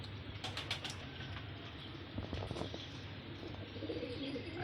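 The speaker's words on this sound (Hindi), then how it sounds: "आज कबूतर उड़ाए हुए हैं।" Pigeons flown by a keeper coo softly, with occasional wing flaps, in a noisy outdoor setting, all of it faint beneath a steady low background rumble.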